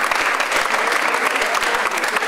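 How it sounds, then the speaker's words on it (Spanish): An audience applauds a band at a youth music contest, steady dense clapping filling the whole stretch with no break and no voices above it. "Fuertes palmas, por favor, para ellos"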